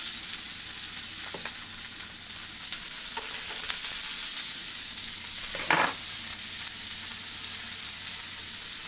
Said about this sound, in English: You want to just bathe your steak in that thyme and garlic and butter mixture.